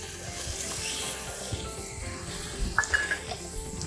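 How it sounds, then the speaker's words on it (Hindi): Half a cup of milk poured into a hot pan of macaroni pasta, giving a steady sizzling, bubbling hiss throughout with a few brighter splashes near the end. "अब आधा कप इसमें हम डालेंगे दूध का"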